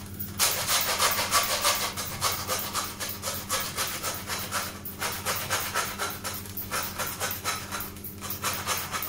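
A butcher's knife works through lamb cutlets during a full carcass breakdown, giving a rhythmic, rasping sawing sound in quick repeated strokes, close and steady throughout with no talk.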